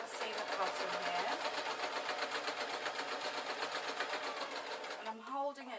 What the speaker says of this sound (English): all I'm doing is running along the seam at the bottom here